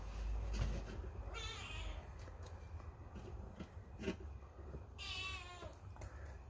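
A cat meows twice nearby, a short call early and a longer one near the end, over quiet room noise.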